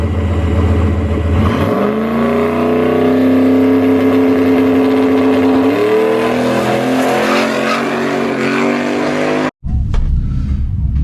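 Race car engine loud and close, idling then rising steadily through a long acceleration on a drag strip test pass, cutting off abruptly near the end before a brief restart.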